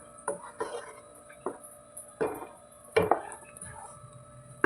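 A spoon scrapes and knocks through paneer butter masala in a pan, with a series of irregular clinks and scrapes, the loudest pair near the middle, while quiet talk continues in the background.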